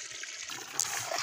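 Water trickles from a small, thin pipe into containers as cattle drinking water is filled from a borewell with a low yield. The flow sounds as a steady, close-up stream with small splashy surges.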